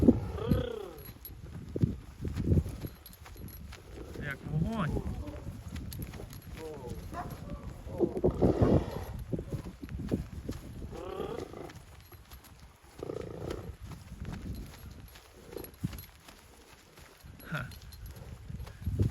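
A bay mare trots and runs with clip-clopping hooves at a Ternopil-region horse sale, the irregular hoof beats mixed with wind and handling noise while people talk over them throughout.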